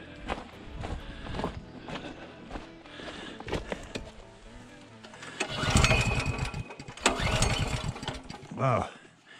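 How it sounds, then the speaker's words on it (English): A generator engine at an off-grid cabin is being started, with several rough bursts of engine noise that catch and rev irregularly over scattered background movement sounds. "start the generator"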